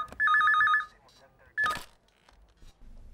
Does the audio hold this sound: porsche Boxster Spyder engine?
no